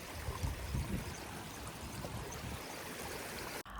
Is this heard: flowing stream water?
yes